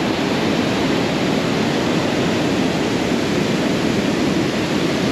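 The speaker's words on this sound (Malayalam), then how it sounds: "ഇതാണ് ആ വെള്ളച്ചാട്ടം." Water at a waterfall in Martvili, Georgia roars as a steady broadband rush, loud and constant for the whole stretch, with no voices over it.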